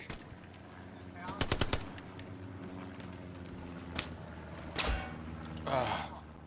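Rapid bursts of automatic gunfire in the World War II shooter game Hell Let Loose, one tight volley near the start and scattered later shots and clatter against a steady background hum.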